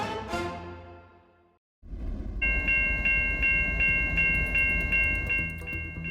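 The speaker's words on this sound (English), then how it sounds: "A cargo train derailed in northwest Regina on Thursday" A cargo train in northwest Regina rumbles steadily past after a fading tone, its heavy low roar joined by a repeating bright ringing pulse, fairly near and without talk.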